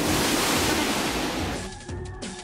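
A powerful toy water gun blasts a steady, loud hissing spray against a wall, broad and noisy, then thins and sputters near the end.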